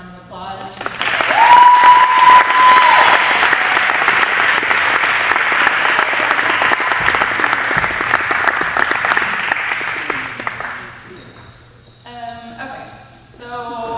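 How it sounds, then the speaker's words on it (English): Crowd at a school athletic awards ceremony breaks into loud, sustained applause for coaches, dense clapping that lasts about ten seconds before fading, with a voice and a brief whistle-like tone early on. "Give them a round of applause."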